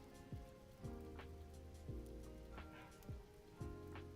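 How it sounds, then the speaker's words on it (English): Steady rain ambience patters softly and continuously beneath gentle background music, with no one speaking. "A little bit of fireplace and a little bit of rain."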